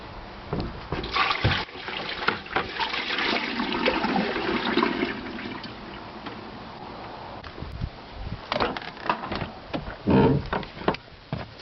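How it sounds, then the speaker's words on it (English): A pail of water is dumped over a car's passenger-side firewall, giving a loud rushing splash that runs for several seconds, followed by further pours and splatters. Nobody speaks. "we're going to go ahead and dump this pail of water to see if that leak is still coming in"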